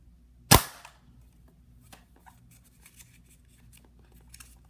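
A Nerf toy gun fires once, a sharp, close snap standing alone in a quiet room, followed by faint small handling clicks and rustles.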